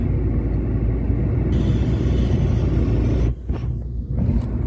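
Inside a yellow Nok Air airliner landing at Don Mueang airport, a loud, steady low cabin rumble with a brief dip and jolt near the end, and no talking.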